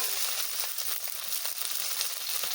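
Raw tomatoes hit sizzling spice paste in a pan for rui fish curry, a steady bright frying hiss with soft crackles throughout, close and alone.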